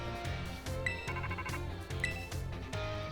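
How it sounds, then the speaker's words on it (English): An in-game phone in Pokemon Scarlet rings with a bright, repeating electronic ringtone, several even bursts over a looping musical background. "your phone's ringing"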